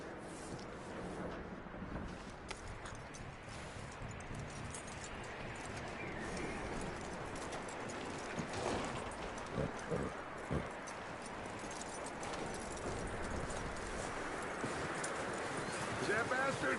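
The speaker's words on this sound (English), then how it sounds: "That looks like a decent horse." Horse hooves clip-clop steadily through a Red Dead Redemption 2 game scene, a continuous trotting rhythm at moderate volume under game ambience and a talking voice.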